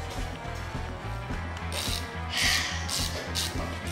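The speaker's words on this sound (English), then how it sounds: "We ended up going with a 3/16 Allen socket with an extended Allen key" A ratchet with a 3/16 Allen socket turns out a set screw on a Peerless 2300 differential, giving a close, rapid, steady train of ratcheting clicks with no talk.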